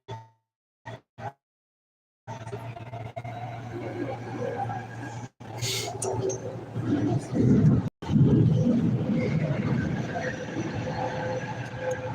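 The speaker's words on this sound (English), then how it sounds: "This train is for Waterfront." A Vancouver-area transit train rolls toward Waterfront station, its steady low rumble and hum filling the car after a quiet start, with clanks and rattles rising midway and a brief break before the running noise resumes.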